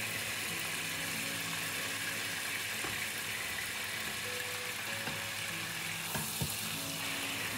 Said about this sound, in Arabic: بعد ما قليت الدجاج ويا الخضروات، البطاطا والجزر صار نص استوى يعني